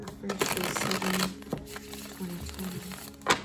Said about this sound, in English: Let me do a good few shuffles here.